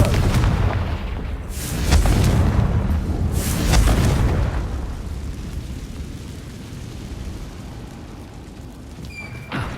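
Confringo fire spell explosions in Hogwarts Legacy, two loud booming blasts with rumbling low tails, the second a couple of seconds after the first, then fading into a quieter rumble.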